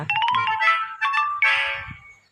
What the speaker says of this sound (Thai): เสียงโทรศัพท์ค่ะ